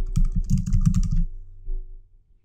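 Someone types a name on a computer keyboard: a quick, close run of crisp keystrokes, then a few slower taps trailing off into quiet.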